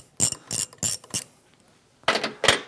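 A ratchet loosens a nut on a small engine in four quick clicking bursts, a pause, then two more bursts. The sound is close and crisp.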